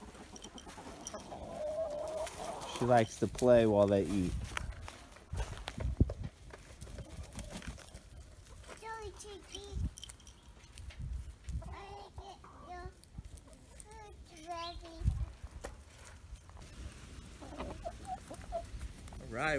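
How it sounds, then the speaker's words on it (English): Chickens cluck on a farm, with a dozen or so birds nearby giving scattered soft clucks and calls while someone talks now and then over them. "she is hanging out with the chickies"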